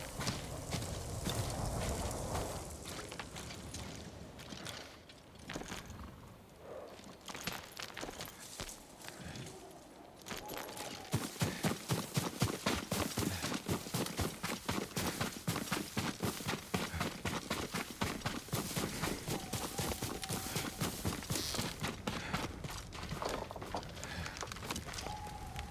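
Horse hooves in the video game Ghost of Tsushima, first irregular and sparse, then a steady fast run of close, crisp clip-clops that continues for many seconds amid game ambience.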